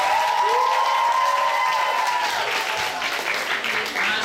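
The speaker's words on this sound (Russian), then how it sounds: "Тогда аплодисменты четвертому отряду" An audience applauds the fourth team at an arts contest, steady, dense clapping from a crowd filling the room, with a faint cheer and voices mixed in throughout.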